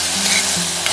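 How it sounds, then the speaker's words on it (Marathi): Vegetables sauté in a little butter for pasta or noodles, a close, steady hiss of frying with a faint stirring scrape, brief and without talk. "बटर होतं म्हणून मग मी ते थोडंसं बटर टाकले. व्यवस्थित छान परतून घ्यायचं."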